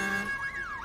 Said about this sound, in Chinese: 那是警笛声吗？